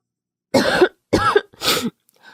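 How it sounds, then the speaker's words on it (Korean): Three harsh coughs in quick succession, close and fairly loud, with short pauses between them and no talking. "또 기침 나와."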